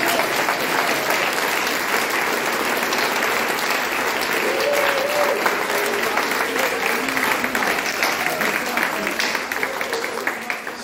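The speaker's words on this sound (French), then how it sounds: "Nous applaudissons celle qui est à la flûte," Sustained audience applause at a church concert of Père de Montfort hymns in Pontchâteau, honouring the flutist; dense steady clapping throughout, tapering slightly near the end, with a faint voice or two beneath.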